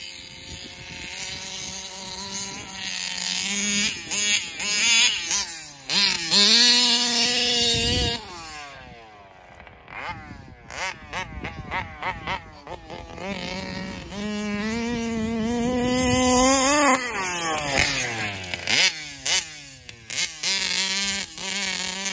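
A Taylor RC 40GT nitro radio-controlled car tears up sod with its front wheels lifted, its high-pitched engine whining and revving in rising sweeps, cutting out briefly before screaming again, loud and close.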